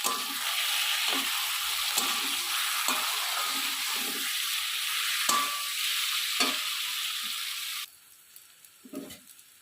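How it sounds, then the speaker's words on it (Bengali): Spice paste for a paneer and capsicum curry sizzles loudly in a pan while a spoon scrapes and stirs it in repeated strokes, then the frying cuts back to quieter scraping near the end. "মশলাটা কষাতে কষাতে আমি মাঝে মাঝে মধ্যে একটুখানি মশলা ধোয়া জলের ছিটে দিয়ে নেব"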